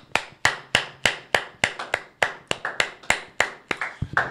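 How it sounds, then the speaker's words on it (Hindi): A congregation at an online church service claps in thanks, about fifteen crisp, close hand claps in a steady, fairly quick rhythm that speeds up slightly toward the end, with no voices. "एक ताली बजाकर हम परमेश्वर का धन्यवाद करेंगे।"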